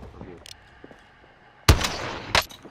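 Gunfire in a Call of Duty: Modern Warfare quads match: a few faint distant shots early on, then two loud, sharp close bursts spaced about half a second apart.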